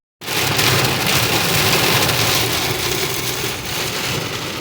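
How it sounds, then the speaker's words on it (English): Torrential rain hammering a vehicle during a storm while driving in Missouri, a loud, dense, continuous roar of downpour that starts abruptly and holds steady with only slight swells, no voices. "It was not long after that the torrential downpour began."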